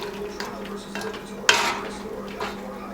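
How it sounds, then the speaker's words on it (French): Onions and vegetables stirred in a cooking pot for a spinach (ndunda) dish, a soft clinking and scraping of a utensil against the pot with one sharper metallic knock, close and moderate over a faint background hum. "on va tout simplement mélanger"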